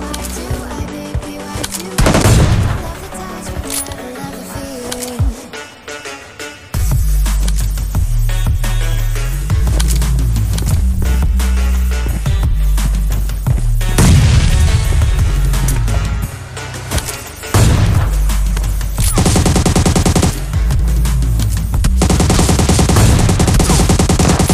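Loud, rapid bursts of gunfire in the battle royale game PUBG Lite, with repeated volleys and brief pauses throughout, over steady game background sound.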